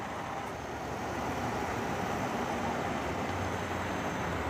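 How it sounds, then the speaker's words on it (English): A 2015 Jeep Wrangler Willys Wheeler engine idles steadily, a continuous even rumble that sits close and fairly quiet, with no talk over it. "You can hear it's idling quite happily."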